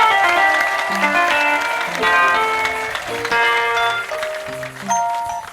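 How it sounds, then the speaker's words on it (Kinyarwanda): Members of an ADEPR church congregation clap and ululate in a prayer service, with sustained applause mixed with high trilling ululations and tonal voices, loud and continuous throughout. "mujye muyiha amashyi n'impundu"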